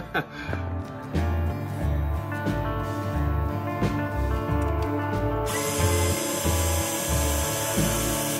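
A power drill bores into a Hasbro Pulse Ghostbusters Proton Pack toy, sounding as a close, loud whirring motor in repeated short bursts with brief pauses, plus a sustained high whine toward the end.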